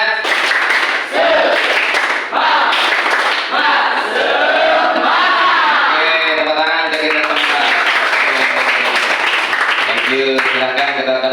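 Students in a vocational high school mathematics class perform a rhythmic clapping chant together, voices shouting in unison over sharp, patterned claps that fill the room loudly and continuously.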